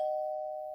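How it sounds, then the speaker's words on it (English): A single electronic doorbell chime rings out, a steady sustained tone that fades slowly, with nothing else around it. "So, do I have the doorbell?"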